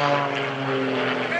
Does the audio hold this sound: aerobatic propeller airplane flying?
yes